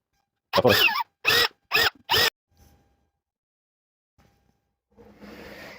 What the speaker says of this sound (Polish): I teraz wiertełkiem dwójeczką jeszcze poprawię